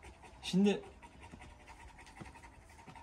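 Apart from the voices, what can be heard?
dog panting heavily after a fight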